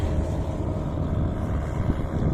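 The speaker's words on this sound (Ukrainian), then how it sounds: "О, тракторець. Зараз" A small tractor's engine drones steadily at close range, a continuous low rumble that holds even throughout, heard on a hot day at a lakeside fishing spot.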